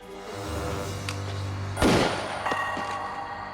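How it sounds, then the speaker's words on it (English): A single sharp gunshot cracks out in a dramatized robbery outside a hamburger shop parking lot, bursting loudly over a steady bed of dramatic music with no talk. "And shot him in the stomach and left him to die in their parking lot outside of the hamburger shop"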